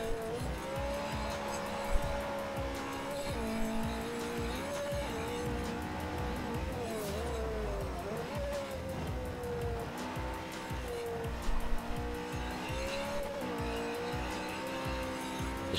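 Continuous engine drone from a car driven in Forza Horizon 4, with sustained tyre squeal rising and falling through corners, loud and steady with no talk.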